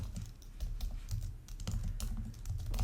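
Typing on a computer keyboard, with quick irregular key clicks running steadily and close throughout, at a fairly low level and with no voices.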